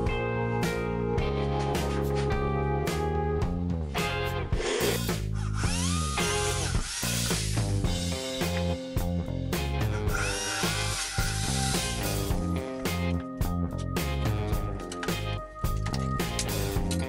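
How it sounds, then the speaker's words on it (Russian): A power drill whirs and bites into wood in repeated bursts, drilling holes to mount a fence on a router table, its pitch dropping under load, with clatter between holes and no talking. "Сейчас буду сверлить отверстия для крепления параллельного упора к столу."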